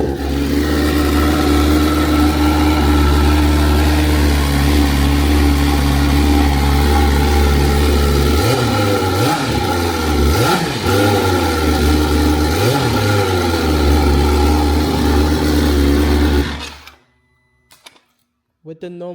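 A 2026 BMW S1000RR running its stock exhaust with no muffler, engine droning loud and steady with a few sharp revs rising and falling midway, then cutting off abruptly near the end.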